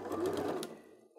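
A sewing machine runs a quick burst of stitching along a seam on an insulated fabric tote bag, a close, steady mechanical whir that slows and stops within about a second.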